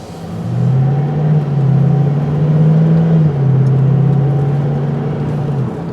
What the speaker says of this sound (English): you could hear it just shifted up through the gears nice and smooth.